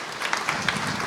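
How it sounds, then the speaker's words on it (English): A short burst of audience applause after a speaker invites the room to clap for Don at a nonprofit information session, with steady dense clapping and a few louder claps standing out, no voices on top. "you can give Don a big round of applause"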